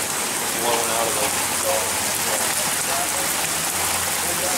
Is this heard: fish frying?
no